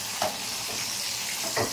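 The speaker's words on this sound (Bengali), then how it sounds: "পটল ভাজা হচ্ছে" Pointed gourd (potol) fries in oil in a kadai, giving a steady broadband sizzle with a couple of brief stirring clatters, close and fairly loud with no voices.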